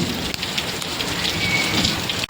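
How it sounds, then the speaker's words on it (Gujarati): Heavy monsoon downpour in Surat during a lightning storm roars steadily and densely up close, a continuous wash of rain with no voices. "વીજળી થાય, રૂડે છે, ધબધબાટી વરસાદ છે."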